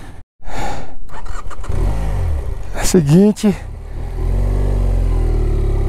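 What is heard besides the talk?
heavily loaded motorcycle engine running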